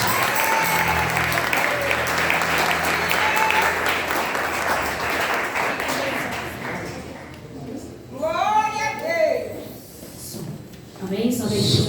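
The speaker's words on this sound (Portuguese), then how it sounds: "Vou receber a reverenda com palmas para Jesus para louvar." Church congregation clapping during a worship service, a dense steady wash of applause for the first several seconds that thins out, followed by voices singing and speaking.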